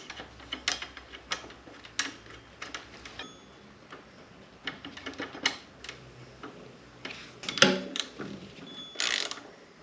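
A motorcycle brake caliper on a Kawasaki Vulcan is bolted back into place, giving scattered close metallic clicks, ratcheting taps and small clanks spread irregularly across a quiet background.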